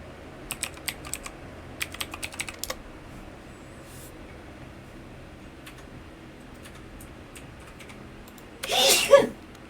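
A single loud, breathy sneeze bursts out near the end, after bursts of rapid computer keyboard typing in a quiet room.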